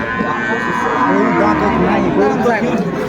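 A cow moos amid the bustle of a busy cattle market, where dairy cows with calves are sold; a long low call runs under steady crowd noise and nearby talk.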